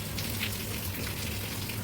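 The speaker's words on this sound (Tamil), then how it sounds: "அப்படியே உங்களுக்கு மழை பெய்யுற சவுண்டு கேட்கும்னு நினைக்கிறேன்" Heavy rain falls outdoors as a continuous broadband hiss of drops on surfaces, moderately quiet and unbroken, with no voices.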